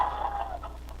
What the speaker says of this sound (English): Oh, these doggone chickens.